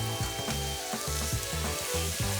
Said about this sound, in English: Probably wanna turn it a couple times, get a nice hard sear on everything.